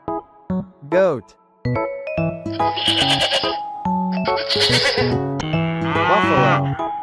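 A goat bleats in loud, wavering calls, several in a row, close up, mixed with other farm-animal cries.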